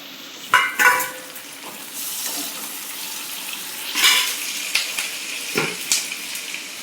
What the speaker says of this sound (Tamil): நல்லா வெங்காயம் தக்காளி நல்லா வதங்கிடுச்சுங்க.